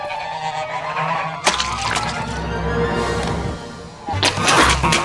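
Cartoon geese honk in a few sharp, loud bursts, with clattering noise between the honks.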